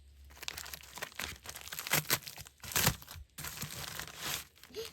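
Plastic vinyl packaging is torn open by hand, close and fairly quiet, with uneven bursts of crinkling and ripping separated by brief pauses.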